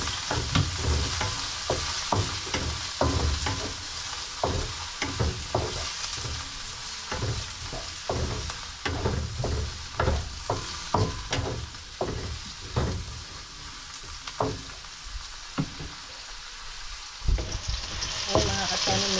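Tomatoes sautéing in a pan with a continuous sizzle, broken by repeated sharp spatula scrapes and clacks in an uneven rhythm, close and fairly loud.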